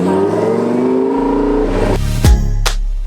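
A twin-turbo Lamborghini engine rises in pitch under acceleration, loud and close, then drops back as the gear changes, followed by sharp whooshing bursts.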